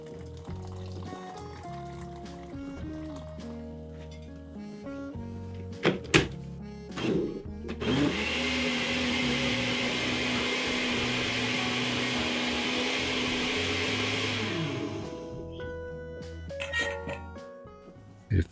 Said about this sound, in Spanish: Bueno, vamos a colocar todo en la licuadora.